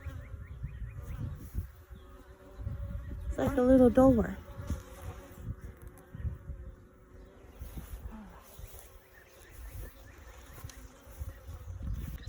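Honeybees hum around an open hive during an inspection, a low buzzing bed with a brief louder burst as bees pass close, while someone talks over it.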